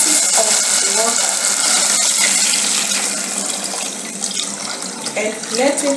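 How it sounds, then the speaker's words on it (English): Tap water runs steadily into a cooking pot, three glasses' worth being added for egg noodles, a continuous close splashing gush with faint voice traces underneath. "At this point, I'm going to add 3 glasses of water"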